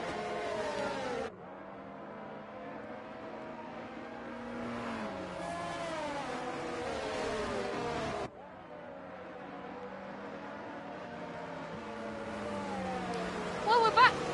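Race cars in a sim racing game at Miami, engines whining and shifting gears as they accelerate past, with a commentator talking over the steady mechanical drone.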